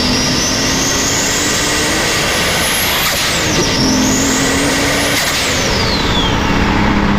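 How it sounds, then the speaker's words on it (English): Loud, close turbo whistle from a BorgWarner S1300 on a Nissan S13 with a Skyline engine swap, rising in pitch twice over a steady engine drone, then falling away. "this turbo spools up pretty nasty for this car"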